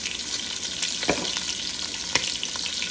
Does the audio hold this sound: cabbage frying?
yes